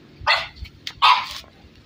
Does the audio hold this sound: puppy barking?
yes